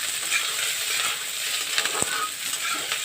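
Diced onion and capsicum sizzling in a hot pan for chilli chicken, a steady bright frying hiss with a few scraping stirs of the spatula, close and continuous.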